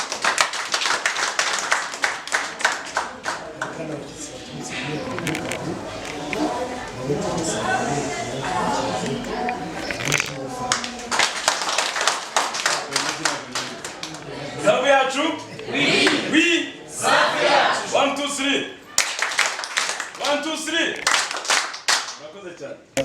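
An audience at a savings-week event at a cooperative bank claps for standing guests, with bursts of rhythmic hand clapping mixed with a speaker's voice and some chuckles, the applause rising and thinning in waves.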